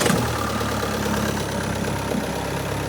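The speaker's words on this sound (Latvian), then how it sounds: "Motors augsts arī, kas forši ir, kad nav uzsildīts." A cold used car engine runs at high idle, a steady, close, buzzing drone with a faint regular knock and no break over the few seconds, heard without voices.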